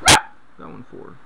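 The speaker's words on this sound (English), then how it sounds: "I'm sorry about the dogs tonight" A single sharp puppy bark rings out close by, followed by a person speaking quietly.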